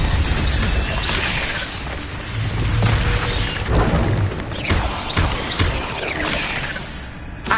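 An Incendio fire spell is cast in a Harry Potter video game, dense whooshing bursts and booming crashes layered in a chaotic spell fight, with thuds and shattering debris throughout.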